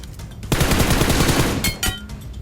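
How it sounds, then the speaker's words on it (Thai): Rapid bursts of automatic gunfire in PUBG Mobile crackle loudly for about a second, followed by a couple of sharper single shots, with no talking. "มีเสียงยิง บ้านตรงหน้าขวาเลย"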